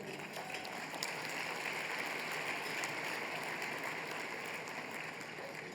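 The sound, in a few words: audience applause at awards luncheon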